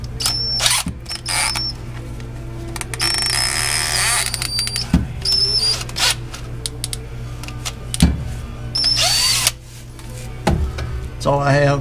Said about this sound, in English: So I'm gonna see if I can use a step drill.